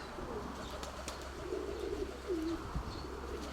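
Pigeons in a loft, including a grey hen, give a few low coos midway, fairly close but soft, over steady hum, with faint chirps and a brief flutter of wings.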